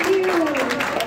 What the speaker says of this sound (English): Let's have a round of applause for the successful opening of NNI's One Heart, One Mind exhibition